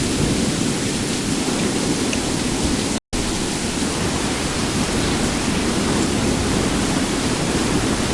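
Thunderstorm in Skyrim with the Supreme Aegis Weathers mod: heavy, steady roaring rain and low rumbling thunder wash continuously, cut by a brief silent gap near the middle.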